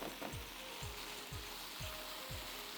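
Boneless chicken and capsicum sizzle steadily in a hot pan as a utensil scrapes through them in a regular rhythm of about two strokes per second, close and fairly quiet.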